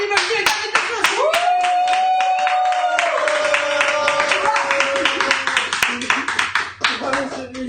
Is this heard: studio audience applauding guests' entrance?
yes